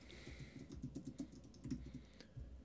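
Computer keyboard typing while entering title text in Adobe Premiere Pro: a quick, irregular run of soft, close keystrokes, fairly quiet, with no talking.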